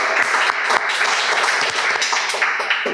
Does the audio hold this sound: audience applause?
yes